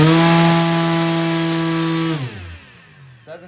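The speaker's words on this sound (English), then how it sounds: "This is my 3D printed two-blade folded propeller in 8mm." A small RC motor spins a 3D printed two-blade folding propeller on a thrust test stand, a loud steady high whine with strong harmonics that drops in pitch as it spins down near the end.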